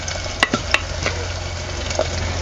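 Onion, ginger and garlic sizzle steadily in a hot pan for a sambar tempering. A few sharp scrapes and taps of a spoon stirring stand out near the start.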